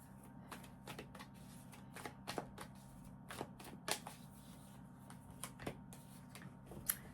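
Tarot cards being shuffled at close range, quiet irregular riffling and snapping in short bursts over a low steady hum, with no voice.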